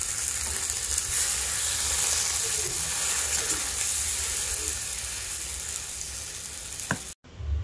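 Coconut paste, poppy seeds and tomato cashew paste frying in a pan, a loud steady sizzle close by with faint stirring scrapes, ending in a brief clatter and sudden quiet.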